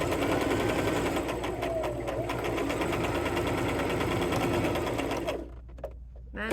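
A sewing machine stitches a vest with a steady, rapid, close mechanical whir that runs for several seconds and then stops, followed by a few light handling taps.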